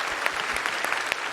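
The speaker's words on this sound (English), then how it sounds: "And keep that applause going for all the FX contestants." Dense, steady applause fills a TwitchCon 2019 cosplay contest hall, the crowd clapping continuously throughout.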